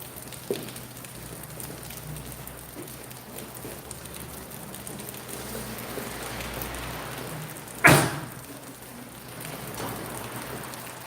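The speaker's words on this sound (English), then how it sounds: "You hear that rain?" Steady rain falls on a surface, with a soft continuous patter, a sharp knock near the start and a brief loud clatter about two thirds through.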